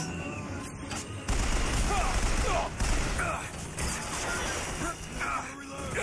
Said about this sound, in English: Is there a turret thing here?